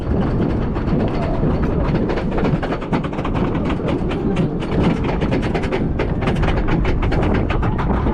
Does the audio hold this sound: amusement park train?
yes